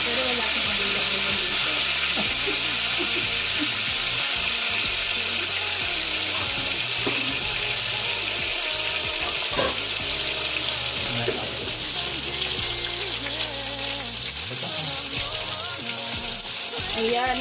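Vegetables for Ilocano pakbet fry in a pan with a steady, loud hiss and sizzle that runs the whole time, broken by occasional clinks and scraping.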